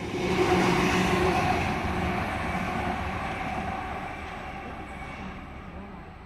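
An 8-car Millennium passenger train passes through Turrella station with a loud, steady rumble and rush of wheels. The roar is heaviest at the start, then slowly fades over several seconds as the train moves away.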